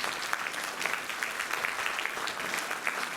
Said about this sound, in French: On applaudit bien fort leur chef de chœur, Dominique